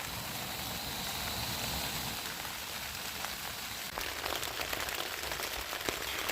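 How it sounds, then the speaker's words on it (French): Steady morning rain falls on a pilgrim's campsite during a walk to Rome, a constant soft patter on surfaces with sharper drops tapping nearby in the second half, faint and continuous with no voices. "la pluie ne cesse pas"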